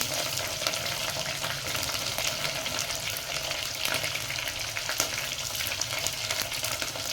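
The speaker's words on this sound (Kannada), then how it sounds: "ಇವು ಸ್ವಲ್ಪ ಮೆಣಸಿನ್ಕಾಯಿ ಫ್ರೈ ಆಗಲಿ" Green chillies frying in hot oil, producing a dense, continuous close sizzle with crackling bursts that holds steady and loud for several seconds, with no voices.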